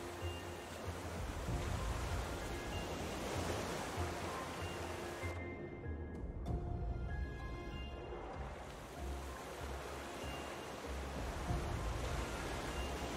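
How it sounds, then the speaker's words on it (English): Steady rushing water in the survival video game Raft, a broad continuous wash like surf or a stream with a brief dip midway, heard alone without speech. "Oh, I hear water."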